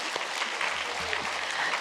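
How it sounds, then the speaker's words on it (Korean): A church congregation applauds in a steady, dense patter of many hands, fairly loud and continuous throughout with no voices standing out. "박수하겠습니다"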